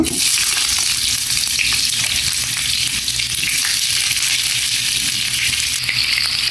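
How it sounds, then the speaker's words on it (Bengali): Chopped onions frying in mustard oil, a loud unbroken sizzle and crackle that stays close and even with no talking. "এখন এই পেঁয়াজ কুচি দিয়ে ভালো করে একটু পেঁয়াজগুলো ভেজে নিব সুন্দর করে ভেজে নিব"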